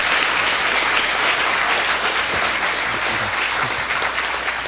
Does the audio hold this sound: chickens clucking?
no